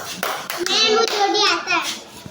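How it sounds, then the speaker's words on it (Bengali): Second-grade children in a classroom clap together for a classmate during a word-building game, a short burst of hand claps mixed with children's voices and chatter. "রেদনের জন্য একটা হাততালি দাও।"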